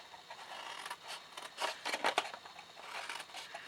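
Scissors snip through card for a homemade fold-out box holding six Ferrero chocolates, a run of quiet, close crisp cuts in uneven rhythm, with no talking.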